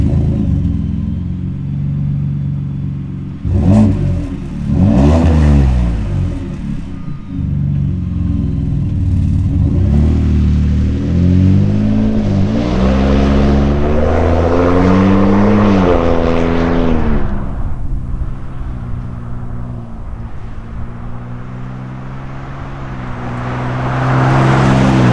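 A 2021+ Ford F-150 EcoBoost with an MBRP 3-inch stainless cat-back, dual rear exit exhaust drives off and revs, a loud, deep, rumbling exhaust note rising and falling through several accelerations, close by with no talk.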